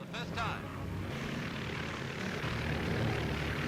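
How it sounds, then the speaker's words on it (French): The S-20 Mercury seaplane's propeller engines start up and run in a loud, steady drone that fills the whole stretch, with a brief voice-like tone at the very start. "le S-20 Mercury lance ses moteurs, se sépare du S-21 et finit le parcours"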